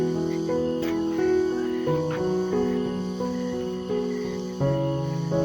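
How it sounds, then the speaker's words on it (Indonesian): Cicadas drone on a quiet rural hillside, a sustained buzzing chorus that shifts in pitch in stepped waves, fairly close and heard alone. "Suara tonggeret. Nah, kerunguan suara tonggeret gini."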